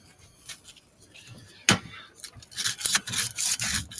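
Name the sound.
sanding a rusty spot with small sandpaper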